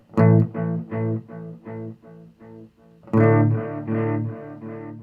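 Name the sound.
distortion effect on guitar delay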